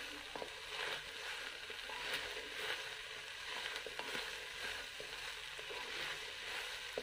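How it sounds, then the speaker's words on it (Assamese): Rice and dal frying in a pan for khichdi hiss with a steady, close sizzle as water hits them, with faint scraping stirs throughout. "এতিয়া মই পানী দিম।"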